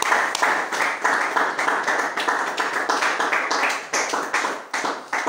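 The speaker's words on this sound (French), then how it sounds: "Acclamons pour la parole de Jésus." Church congregation applauding together in a steady, dense burst of clapping that carries on for several seconds, fairly close and even in loudness, with no talk over it.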